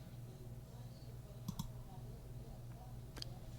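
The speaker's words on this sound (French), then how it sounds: "bouton droit de la souris" Right mouse button clicks on a computer while working in Excel, a couple of quick faint clicks near the middle and one more shortly after, sharp and close over a quiet electrical hum.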